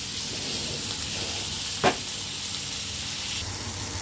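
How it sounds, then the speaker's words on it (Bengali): Spice masala frying and being stirred in a pan gives a steady, close sizzle with one brief louder scrape near the middle, and no voices. "এখন এটাকে কষাই"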